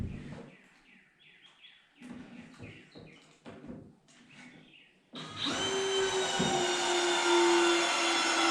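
A power drill or driver runs steadily for several seconds, close and loud, while screws are driven into the loft framing of a 12x20 shed. Softer knocks, handling noise and faint bird chirps come before it.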